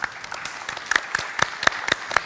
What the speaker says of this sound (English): A huge applause from Munich in Germany to you.